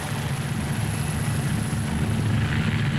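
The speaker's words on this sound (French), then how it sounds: "L'homme finit par accepter de monter dans l'hélicoptère." A helicopter runs nearby, its rotor and engine giving a continuous low throbbing drone with a faint high whine above it, steady and fairly loud for the whole stretch.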